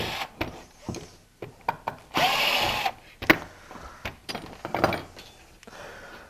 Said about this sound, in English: we'll pull the screws out of this now